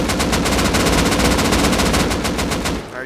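Rapid automatic 5.56 rifle fire in the video game Rust, a loud continuous string of evenly spaced shots for about three seconds before cutting off, with no talking.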